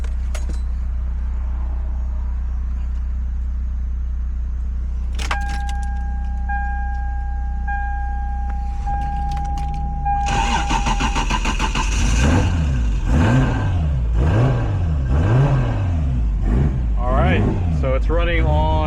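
Toyota MKIV Supra started for the first time after fan wiring work: a quiet idle-like hum and a steady chime, then cranking until the engine catches, followed by a run of repeated rising and falling revs close by.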